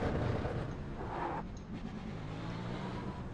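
A race car in the iRacing video game runs with its exhaust system dragging, a steady loud engine and scraping roar throughout, with a brief brighter rasp early on.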